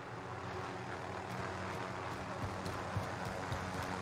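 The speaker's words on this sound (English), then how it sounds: "Got a helicopter coming out of this fire station." Helicopter in the Warzone video game, a steady droning engine and rotor roar filling the background continuously and fairly evenly, with no speech over it.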